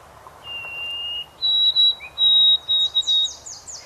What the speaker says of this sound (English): White-throated sparrows are most commonly known for their "Oh, sweet Canada, Canada, Canada" song, known as triplet-ending song